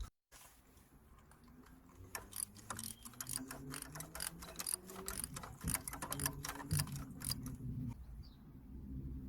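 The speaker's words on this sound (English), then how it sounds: "So just gonna drive it in by hand to start off with, and then we're gonna tighten it." A Bosch spark plug is threaded by hand into a Seat Ibiza 1.2 petrol engine and then tightened, giving quiet, rapid ratcheting clicks and metallic ticks in uneven bursts, close but faint.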